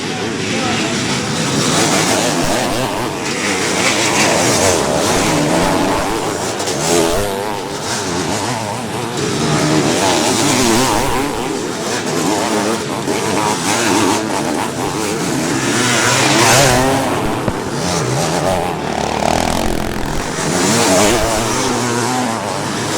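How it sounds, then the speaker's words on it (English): Big 500cc two-stroke motocross bikes climbing a hill during a veterans' motocross race at Farleigh Castle, a loud, continuous blend of revving engines rising and falling, heard from the trackside with commentary over it. "We'll just have a quick listen to these big 500 two-strokers as they head up the hill."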